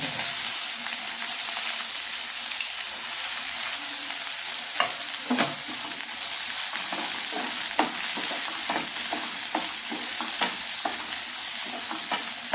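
Chopped onions fry in oil with popped mustard seeds for a prawn pepper masala, giving a dense, steady close sizzle with frequent sharp crackles and spatula scrapes throughout.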